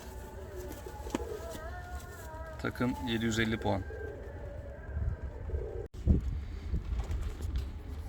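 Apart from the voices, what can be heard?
fancy and costume pigeons cooing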